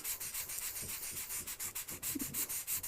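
Quick, rhythmic rasping strokes of a sanding stick rubbing against a small piece of styrene plastic sheet for a scale model, close up, with even back-and-forth scrubbing.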